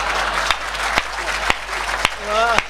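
Audience applause at a comedic Hindi poetry show, a broad, dense wash of clapping with a few sharp louder claps standing out and a voice briefly rising over it near the end.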